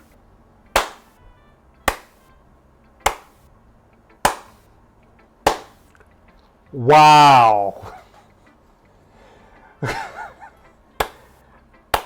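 In the video game Doki Doki Literature Club, a slow single clapper makes about ten crisp, evenly spaced sharp claps. A brief spoken exclamation and other voice sounds interrupt partway through.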